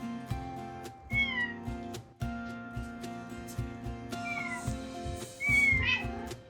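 Nyago, a rescued cat, meows repeatedly in greeting, several close drawn-out meows in a quiet room with short pauses between them.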